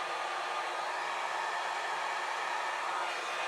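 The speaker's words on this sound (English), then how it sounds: "whenever I use gold, I usually use the number 2 setting of my dryer" A hair dryer on a low setting blows steadily and close up, a constant whooshing rush of air pushing alcohol inks across a painting surface, with no talk.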